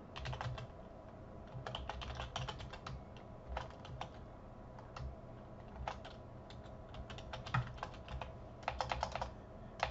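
Computer keyboard typing during a command-line lab, rapid irregular key clicks with short bursts and brief pauses, close and steady, alone without talk.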